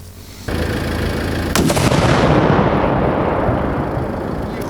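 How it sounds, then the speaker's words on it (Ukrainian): A sudden loud blast from a police bomb squad's controlled electric detonation of a drone erupts, followed by a long rumbling roar that slowly fades, heard from a distance outdoors in the border area of Sumy region, Ukraine. "знищили безпілотний літальний апарат шляхом електропідриву"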